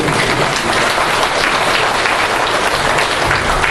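An audience claps in a continuous, even roar of applause that stays loud and dense from start to finish, with no voices rising above it.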